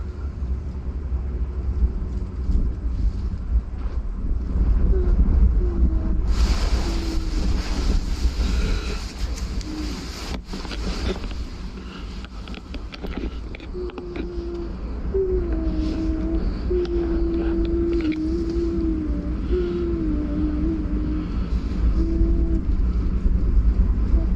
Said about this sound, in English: It sounds like it's just the wind.